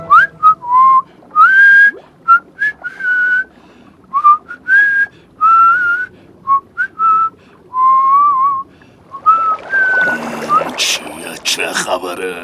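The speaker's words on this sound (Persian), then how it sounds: "خودت گفتی سوت بزن بیام." A cartoon character whistles a long, cheerful tune of short and sustained notes with gaps between the phrases, loud and close, before splashing and clattering sounds come in near the end.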